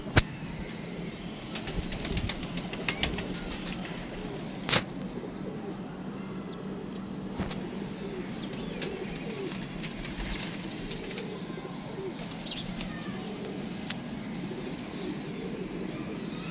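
Pigeons, including a pearl-spotted pigeon, cooing softly and steadily with occasional brief wing flaps and clicks, close by under a constant low background hum.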